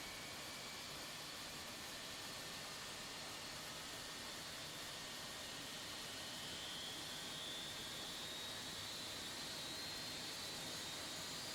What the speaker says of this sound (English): And Rolls-Royce engines start spooling up.